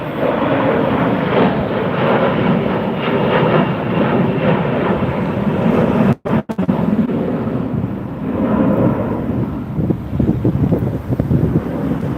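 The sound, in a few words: airliner aborting landing and going around at Las Vegas airport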